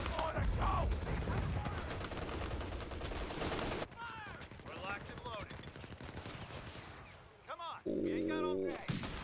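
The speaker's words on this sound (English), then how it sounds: "Chaffee Light Tank klingt jetzt ganz gut." Chaffee light tank firing in a Company of Heroes 3 battle, heavy gunfire and booming cannon shots with rattling bursts, loud and dense, then a quieter stretch with whistling shells and more blasts.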